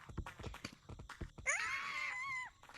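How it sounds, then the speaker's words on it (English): A piercing, drawn-out scream rising sharply and holding for about a second, preceded by a few short clattering sounds and faint movement, fairly close and heard alone. "everyone in the house heard a blood-curdling scream"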